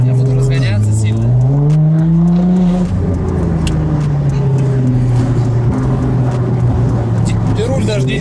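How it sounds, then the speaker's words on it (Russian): A Nissan GT-R sports car working as an economy taxi accelerates hard, its engine note climbing and shifting through gears, loud and close inside the cabin while people talk over it. "Я буду разгоняться сильно."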